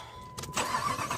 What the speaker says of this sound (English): Let me start this car up.